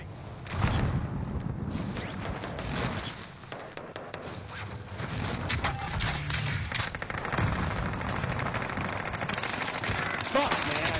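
Rapid automatic gunfire from a Call of Duty match rattles in dense bursts nearly throughout, close and loud, with scraping and footstep-like clatter between volleys.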